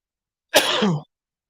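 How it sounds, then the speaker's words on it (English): A single short, harsh cough, close to the microphone, with silence before and after. "Sorry if I'm coughing into the microphone."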